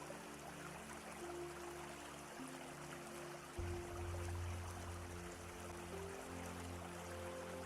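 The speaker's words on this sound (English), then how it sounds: "a room filled with the softened sound of falling water" Softened falling water, a steady gentle rushing wash that stays even and low throughout, with a faint hum underneath and no voices.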